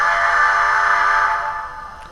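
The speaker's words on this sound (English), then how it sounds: "well, that was the train whistle" A loud, sustained model train whistle from an HO-scale A2 class locomotive blasts close by, holding steady for over a second before fading out.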